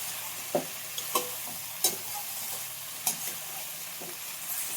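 Salted bitter gourd pieces are stirred in a pan of hot oil, soft sizzling underneath a handful of distinct scraping strokes spaced a second or so apart.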